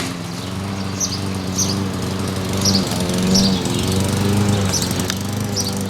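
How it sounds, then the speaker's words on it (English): A lawn mower cuts grass at a house on Cleveland's West Side, its engine droning steadily and fairly close, swelling slightly midway, with faint high chirps above it and no talking. "there's some guy mowing the lawn"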